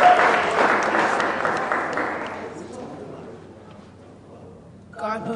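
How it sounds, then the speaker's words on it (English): Loud applause from a small group gathering that fades out over a few seconds, followed by a voice starting to speak at the end. "Y'all clap it up for that man Jordan one time."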